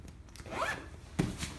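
A zipper is pulled closed on a Serta loveseat cushion cover, a short rasping zip followed by a sharper tug and a light scrape, close up and quiet.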